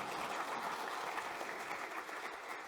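Audience applause at a security conference keynote, a steady wash of clapping from a large crowd that continues throughout without a break.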